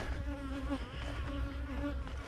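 Honeybees buzz on a brood frame holding larvae, a close, steady droning hum with wavering pitch, faint and without speech.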